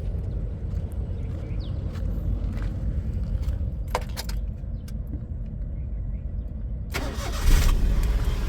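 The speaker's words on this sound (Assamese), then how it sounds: "প্ৰথমতে মই ইঞ্জিনটো ষ্টাৰ্ট কৰি লৈছোঁ।" A second-hand car engine turns over and settles into a steady low idle, with a few light clicks and a brief louder rev-like surge near the end.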